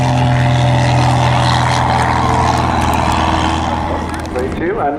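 Display aircraft at the 2022 Southport Airshow, a loud sustained propeller-engine drone overhead that holds steady, then shifts in pitch and fades slightly as it passes, with a commentator talking over it.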